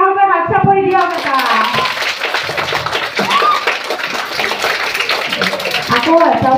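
Audience applause at a cultural jubilee event for Goalpariya folk song training, a dense, steady wash of clapping after a voice fades, continuing throughout at moderate loudness.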